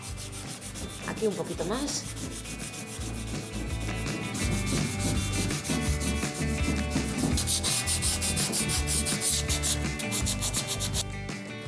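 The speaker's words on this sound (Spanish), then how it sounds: "¿Que nos gusta más lijado? Venga, pues repasamos un poco más." Steady, continuous rubbing and scraping of sandpaper on wood by hand, close and fairly loud throughout, with a brief quiet voice near the start.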